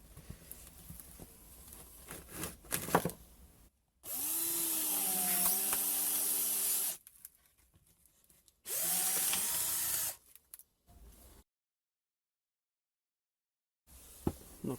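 Cordless drill driving a Parkside wood-splitting bit into firewood, with two loud sustained whirring bursts of a few seconds each, the pitch sagging under load, separated by quieter handling sounds and silence.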